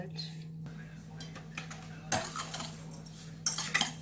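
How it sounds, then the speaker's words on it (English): Spoon gently mixing strawberries and cream in a bowl, soft scraping and clinks that come louder near the end over a steady low hum, with quiet whispery voices in the background. "And then we'll just mix it together really gently."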